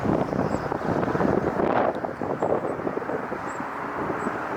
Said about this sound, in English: It's windy right now, but it's not really cold.